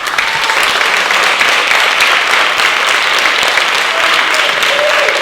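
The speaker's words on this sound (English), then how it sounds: "let's give them a round of applause" Audience applause for congressional candidates at a 2024 candidates' forum, a dense, steady wash of many hands clapping that fills the room without pause.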